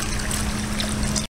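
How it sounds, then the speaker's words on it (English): Liquid chlorine poured over mustard-yellow algae in a swimming pool makes a steady, close splashing trickle that cuts off abruptly at the end. "you want to pour the liquid chlorine over it also"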